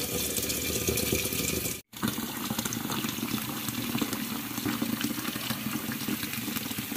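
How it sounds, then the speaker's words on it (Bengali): Water pours steadily into a household water filter, a dense continuous rushing splash heard close up, broken by one brief pause near the two-second mark before flowing again, with no talking. "এখন ফিল্টারে জল দিয়ে দিচ্ছি"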